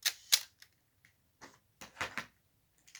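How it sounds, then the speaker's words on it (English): DSLR camera shutter firing in quick bursts of about six frames per second with fast autofocus: several sharp mechanical clicks in irregular clusters, close and crisp, with no talk. "listen to the difference in the shutter sound here"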